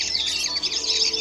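Blackbird song, a bright run of warbling, chirping phrases close by, clear and continuous over a quiet background.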